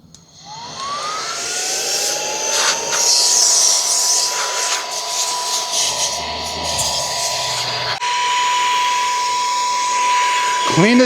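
Nodrax Cyclone-Pro cordless handheld vacuum cleaner with brushless motor switching on and running loud and close, a high steady whine with rising pitch at start and changing airflow as it cleans.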